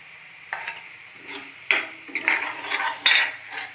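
A spoon scrapes and stirs a spice mixture with black chuk in a pan on a gas stove while bitter gourd is being prepared. There are several distinct scraping strokes in an uneven rhythm, close and fairly loud, with a faint sizzle underneath.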